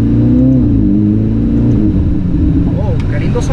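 A Ferrari 488 GTB engine revs loudly from inside the cabin, pitch rising and falling in strong sweeps, close and dominant.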